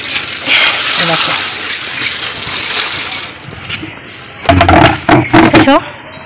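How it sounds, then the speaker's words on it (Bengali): Water splashes and pours close by as a sack is filled from a basin, the sloshing fading before people begin talking. "দেখো পুরো জল দিয়ে ভরে নিচ্ছি"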